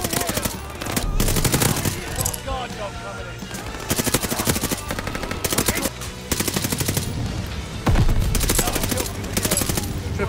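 Rapid bursts of Marco 5 SMG fire in Call of Duty Vanguard, loud and close, rattling in repeated strings with short gaps, with game effects and occasional voices mixed in.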